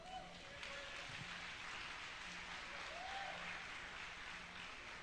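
A church congregation claps together during a sermon, a faint, steady wash of applause heard at a distance with a low hum underneath.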